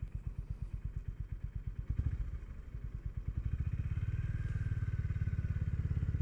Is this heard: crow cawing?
no